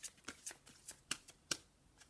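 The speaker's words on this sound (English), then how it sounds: "I'm just going to continue shuffling." A deck of oracle cards is shuffled by hand in quiet, rhythmic riffles, a series of soft, crisp flutters about every quarter second.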